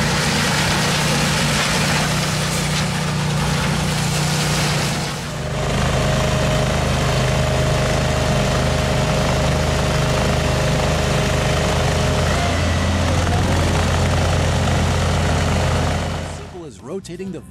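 A laser screed machine's engine runs continuously at a steady loud drone with heavy low rumble, dipping briefly once, then cutting off near the end.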